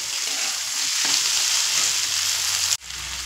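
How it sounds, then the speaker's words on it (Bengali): Soaked sago pearls being stir-fried over a medium flame, giving a strong, steady frying hiss close to the pan, which cuts off abruptly near the end. "দেখুন এখানে আমি 2 মিনিট মতো মিডিয়াম ফ্লেমে সাবুগুলো নাড়াচাড়া করে নিয়েছি।"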